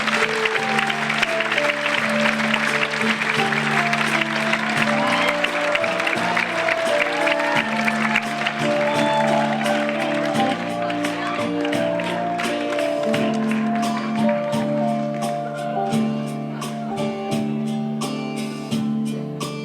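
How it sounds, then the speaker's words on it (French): An audience at a sixtieth birthday party gives loud applause that blends with music playing throughout, sustained for nearly twenty seconds with some voices mixed in. "On l'applaudit très fort."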